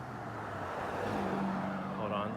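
Several loud cars pass close by on a road in Duarte, California, a steady roar of traffic noise swelling and fading over about two seconds with no clear speech.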